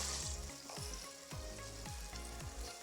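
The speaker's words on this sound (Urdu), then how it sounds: "اس کے لیے میں نے آئل گرم کر لیا اور یہ ایک پیاز ہے" Onion frying in hot oil for a tendaa (round gourd) dish, a steady close sizzle with rhythmic stirring scrapes about every half second and no talking.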